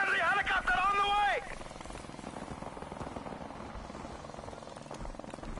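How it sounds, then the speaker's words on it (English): A friendly helicopter arrives in Call of Duty Remastered, its rotor a steady, fast-chopping thrum under game noise; a voice talks briefly at the start before the hum carries on alone. "Friendly helicopter on the way."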